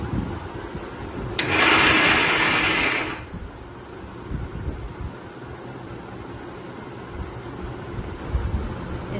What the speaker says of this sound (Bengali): মিক্সি করে নিয়েছি